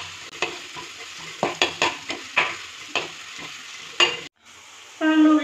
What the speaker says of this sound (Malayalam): സവാളയും പച്ചമുളകും ഇഞ്ചിയും കൂടി ചേർത്ത് വെക്കാം. നന്നായിട്ടൊന്ന് വഴറ്റി എടുക്കാം.